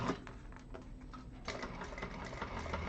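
Sewing machine stitching a vintage handbag, its thread tension acting up, giving a rapid mechanical whir and clatter close by with a short pause and speed change midway, no voices.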